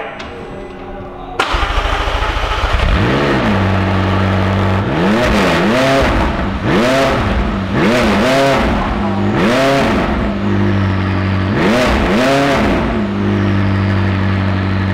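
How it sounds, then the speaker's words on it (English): A McLaren 600LT starts from cold with a sharp crank and loud bark, then settles into a high idle broken by repeated throttle blips that rise and fall in regular surges, close and dominant. "We need to have a cold start."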